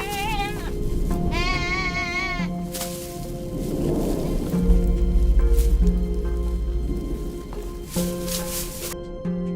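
Sheep bleat in a farm pen, several repeated wavering calls rising over a busy layer of other animal noise and a low rumble, fairly close and loud throughout.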